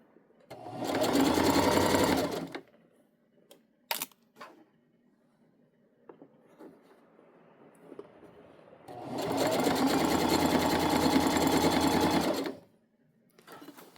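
Sewing machine stitching a tote bag, two loud close bursts of rapid mechanical whirring, one lasting about two seconds and a longer one of about three, separated by quiet handling clicks and fabric rustling.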